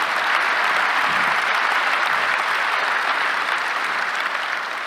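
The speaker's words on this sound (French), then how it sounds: "applaudissez-le." A business conference audience of entrepreneurs and small-business leaders applauds in a steady, dense wash of clapping that holds evenly for the whole stretch, with no voices over it.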